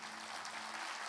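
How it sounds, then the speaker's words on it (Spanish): A church congregation claps for Pastor Joseph Jiménez, a dense wash of applause heard briefly and softly from within the room. "Un aplauso fuerte al pastor Joseph"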